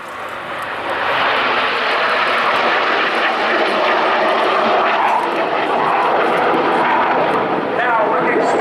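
Red Arrows display jets flying overhead in close formation at the RIAT 2016 air show, a loud continuous engine roar that swells within the first second and holds steady.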